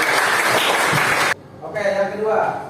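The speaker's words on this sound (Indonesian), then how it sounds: "Oke, tepuk tangan dulu buat" Students in a classroom applaud in a dense, loud burst that stops abruptly after about a second and a half, followed by a teacher speaking.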